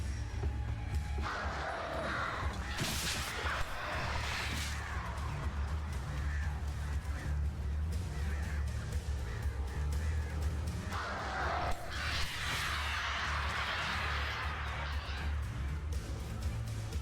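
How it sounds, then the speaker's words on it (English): Crows cawing in the video game Alan Wake Remastered, repeated harsh calls over a dense, steady game soundscape with low rumble, some calls louder and closer, no talk. "I'm watching those crows up there."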